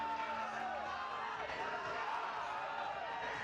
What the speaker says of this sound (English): You hear his teammates cheering him on at the end.